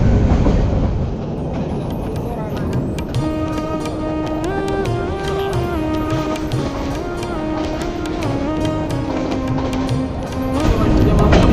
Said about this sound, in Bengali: আমরা বিমানবন্দর রেলওয়ে স্টেশনে প্রবেশ করলাম